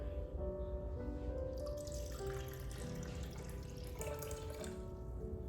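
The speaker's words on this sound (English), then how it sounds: "I'll be measuring out the same quantity of water, a cup of water" Water runs steadily from a tap into a cup or bowl as a cup of water is measured out for chocolate chip pancake mix, a continuous close splashing trickle with no talk.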